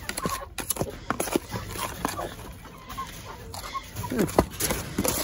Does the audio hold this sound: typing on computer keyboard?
no